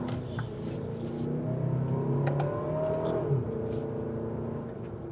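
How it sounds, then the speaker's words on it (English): A 2027 Kia Telluride X-Pro with a 4-cylinder engine accelerates from inside the cabin, revs rising and shifting in a steady drone with a few faint clicks, heard moderately loud and alone. "And man, that 4-cylinder, you can hear it scream."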